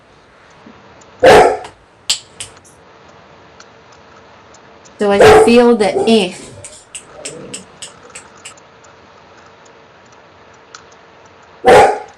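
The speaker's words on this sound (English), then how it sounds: "Please ignore the dog barking." A dog barks in short bursts indoors during a calm spoken session, one sharp bark early, a louder rapid volley in the middle, and another loud bark at the end, while a person speaks softly in between.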